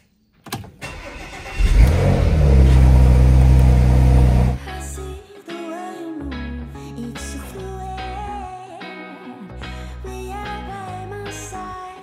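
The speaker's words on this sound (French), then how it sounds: "on va démarrer la voiture et les voisins vont me détester parce que ça va faire un boucan de tous les diables" A car engine starts with a loud burst and roars for a few seconds, then cuts out, followed by music with no talk.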